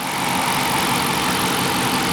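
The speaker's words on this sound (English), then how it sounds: "Here is the engine, nice and smooth." A 2013 Dodge Charger Police Pursuit with a 5.7 HEMI V8 idles close by, a loud, steady low rumble that holds even and smooth throughout with no voices.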